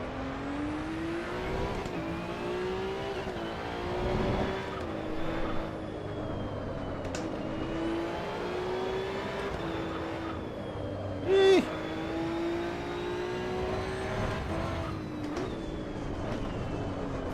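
A race car engine in the Assetto Corsa EVO racing game drones steadily, its pitch rising and falling with the revs, with a brief sharp squeal partway through.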